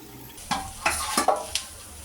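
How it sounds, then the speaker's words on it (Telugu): Fried okra tossed with fried onions and green chillies in a pan: about five quick scraping stirs of a spoon cut through a steady, close-up sizzle. "మనము ఆల్రెడీ వేయించి పెట్టిన బెండకాయలు ఉన్నాయి కదా, ఇప్పుడు వీటిలో వేసి కలపండి"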